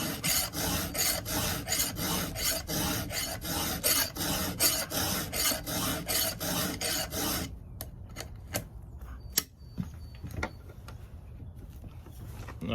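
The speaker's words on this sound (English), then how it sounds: "I just sharpened the chain" A hand file rasps rhythmically over a chainsaw chain in rapid, even back-and-forth strokes, close and steady for about seven seconds, then gives way to a few sparse clicks and light scrapes.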